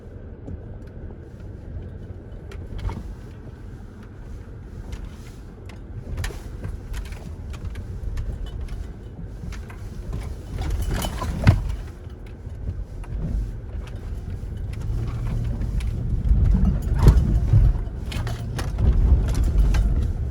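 A Land Rover LR3 drives through a rocky water crossing, giving a steady low engine rumble heard from inside the vehicle, with scattered knocks and jolts that build into heavier sloshing rumbles toward the end.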